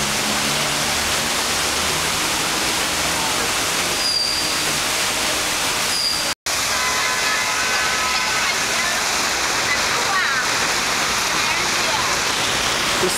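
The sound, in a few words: flash flood water rushing across a road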